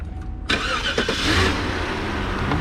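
A Cadillac Northstar engine cranks and catches, bursting into a loud starting roar that settles into a steady, close idle with a faint rise in revs.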